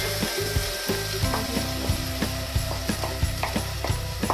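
Chopped parsley and onions fry in a hot pan with a steady, loud sizzle, punctuated by repeated clicks and scrapes of stirring.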